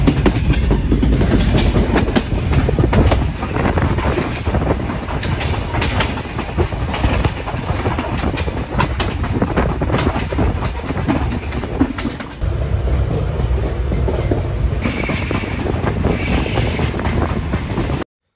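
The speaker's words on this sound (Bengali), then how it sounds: "যদিও প্রথমবার রাত্রেবেলা ট্রেন জার্নি করতেছি" Padma Express passenger train running at night from Dhaka to Rajshahi, heard from inside the carriage: loud, steady rumble with rapid clickety-clack of wheels over rail joints, continuous for the whole stretch.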